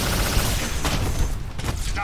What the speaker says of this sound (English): Target acquired! It's the big one! Proton Cannon!